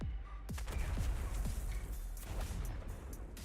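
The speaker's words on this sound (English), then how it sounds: "Oh, I gotta fire the cannon?" Cannon fire in World of Warcraft, with several deep booming shots at irregular intervals among busy game sounds, fairly loud and close.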